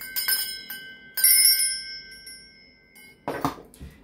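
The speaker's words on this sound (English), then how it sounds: "I'm going to be ringing some bells. This is just to cleanse the space around us." Small metal bells ring out in bright, sustained chimes to cleanse the space, two clusters of strikes ringing close and clear. A sharper clinking burst follows near the end.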